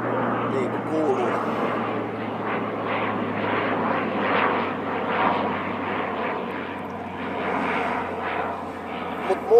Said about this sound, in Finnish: Lentokoneita täällä jonkun verran tietysti menee,